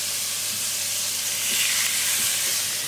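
Steaks searing directly in a dry pan with no oil, giving a steady, loud, dense sizzle that holds evenly throughout with no talking.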